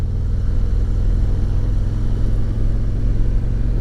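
A bagger motorcycle engine lugging at low revs on curvy roads, a steady deep rumble with a constant throb, loud and close from the rider's seat, with no speech over it.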